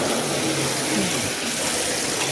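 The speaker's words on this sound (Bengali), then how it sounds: "থালা ধুইয়ে তারপরে কলটা ছাড়ো, কলটা খুলে দে না ঘন্টা।" Water runs steadily from a tap at a temple dining area in Mayapur, used for washing plates after a meal, a continuous broad rushing hiss with no pauses and no talking.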